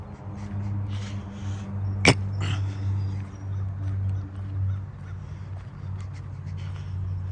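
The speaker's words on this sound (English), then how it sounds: "There's that crow again." A crow caws once, sharp and fairly near, in a suburban neighbourhood, standing out briefly over a steady low hum of background noise.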